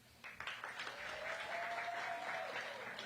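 Audience applause at a mayoral announcement kicking off a Black restaurant week, building from a few claps into a sustained crowd clapping, with a faint whistle or cheer tone running through the middle.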